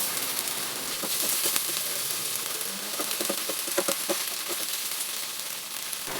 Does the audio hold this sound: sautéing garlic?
yes